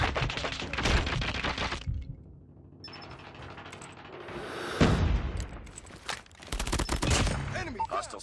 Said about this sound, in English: Actually, kind of sounds more satisfying with a suppressor.